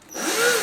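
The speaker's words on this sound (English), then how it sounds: "The drill bit likes to move around a little bit when you're first starting off" Power drill biting into a metal box while building a portable 420 watt solar generator, a steady close whine that ramps up within the first fraction of a second and holds loud to the end.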